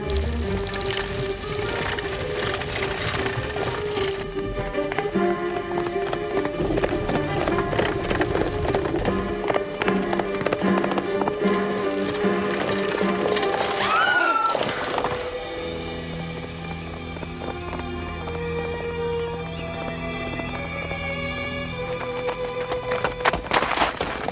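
A horse gallops with rapid, continuous clip-clopping hooves, loud and close, against a busy street scene in an old Sherlock Holmes drama, with music and a shouted voice partway through.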